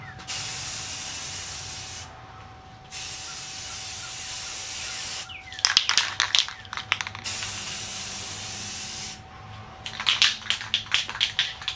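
Spray paint hisses onto a Vstar 1300 motorcycle fairing in long, steady passes, broken by short pauses and two spells of rapid rattling clicks, close and fairly loud.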